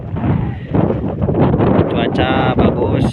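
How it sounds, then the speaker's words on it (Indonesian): Strong, continuous wind gusting at sea on a small fishing raft, roaring and buffeting close to the microphone throughout with steady rumbling noise. "Cuaca bagus, cerah, cuman dari malam angin gak berhenti."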